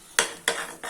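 A spoon stirs mango halwa made from blended mango pulp in a pan, giving three quick, close metallic scrapes and clinks against the pan.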